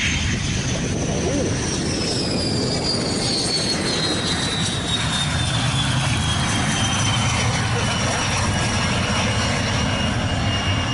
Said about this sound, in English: A pair of female pilots were piloting the MiG-21.